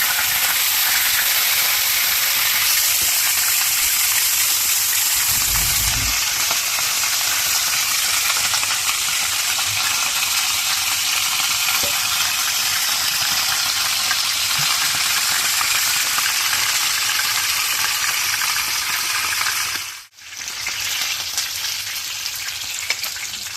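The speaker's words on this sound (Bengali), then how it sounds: "ভাজা হয়ে গেল, কত সুন্দর করে ভাজা হচ্ছে" Spice-coated slices of white koral (datina) sea fish sizzle in hot oil, a loud, steady hiss and crackle that continues without a break, briefly dipping once.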